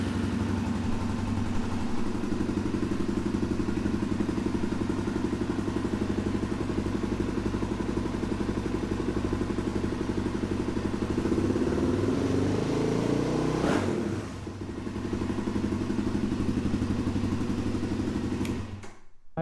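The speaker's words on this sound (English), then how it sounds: "let's button the bike up and go for a ride." A Suzuki DRZ400 motorcycle engine runs steadily at close range with a loud, even mechanical drone, then gives a brief blip before the noise cuts off at the end.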